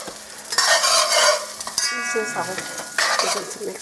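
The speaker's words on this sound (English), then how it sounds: "You want this to kind of get nice and browned, kind of get the grease out, cook it." Ground meat for arroz con gandules sizzles and browns in a pan while a metal spoon scrapes and stirs it, the frying hiss swelling in two loud bursts with clinks between.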